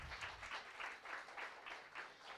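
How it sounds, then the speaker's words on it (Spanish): Applause from a church congregation at an evening sermon, steady rolling clapping throughout at moderate level, with no talking over it. "Vamos, denle un aplauso a Jesús."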